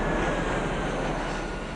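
Needle jet aircraft in Sid Meier's Alpha Centauri video game, a steady broadband jet roar with a faint high whine, droning evenly and fairly loud with no speech.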